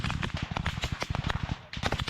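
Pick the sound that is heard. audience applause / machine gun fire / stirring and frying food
machine gun fire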